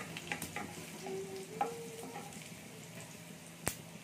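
Garlic and cumin crackle softly in hot oil, a low steady sizzle with a few light utensil taps and one sharp knock near the end.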